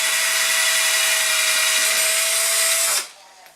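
A center drill bores through the wood of a double-neck guitar body, a loud steady whining drone lasting about three seconds before cutting off abruptly and spinning down.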